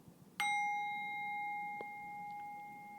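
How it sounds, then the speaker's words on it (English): A single bright meditation bell strike rings out clearly, then sustains with a long, pure, slowly fading tone over a quiet background. "until we hear this bell"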